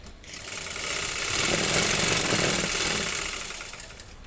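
A sewing machine stitching a salwar runs in one continuous fast whirring burst, rising and easing off, close and alone.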